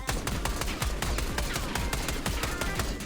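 Rapid automatic gunfire from a weapon fitted with a CHF barrel in Black Ops 6, a fast, even string of sharp shots that runs loud and continuous through the whole stretch.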